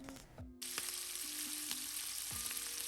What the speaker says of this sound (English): In a warm pan, add some clarified butter and some olive oil.